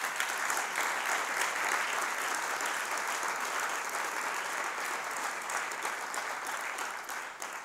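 Dense, steady applause from a large audience at a Norwegian Labour Party national board meeting, filling the whole stretch at an even level and only easing slightly at the end.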